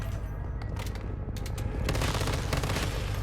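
Sustained gunfire from a boss enemy in the survival shooter Once Human, a dense loud barrage of rapid shots and booms running throughout with no pause.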